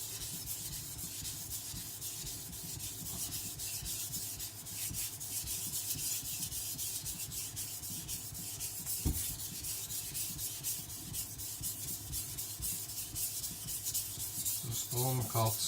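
A Japanese gyuto or Chinese cleaver blade being ground on a whetstone to remove the shoulders and set the bevel, giving a steady continuous scraping rub throughout with a slight thump near the end.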